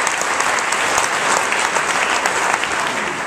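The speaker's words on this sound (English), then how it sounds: "give yourselves a clap" A large audience of about 800 at a Jubilee Awards evening breaks into steady, dense applause, loud and close throughout with no talk over it.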